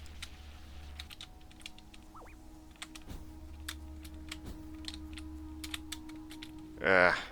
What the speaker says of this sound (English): I hope my keyboard isn't as loud on y'all's end as it is on mine.